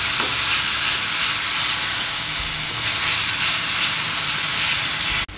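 Tomatoes cooking in a pan with turmeric, coriander powder, garam masala and salt for paneer bhurji, a loud continuous sizzle and hiss with occasional stirring, steady throughout.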